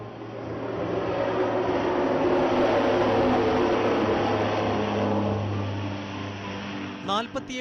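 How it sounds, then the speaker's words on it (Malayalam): A special Navy aircraft departs, its broad jet roar swelling loud and steady for several seconds before easing off, followed by a brief burst of high chirping at the end. "ഒരു ജീവന്റെ തുടിപ്പുമായി നേവിയുടെ പ്രത്യേക വിമാനം കൊച്ചിയിലേക്ക് യാത്ര തിരിച്ചിരിക്കുന്നു"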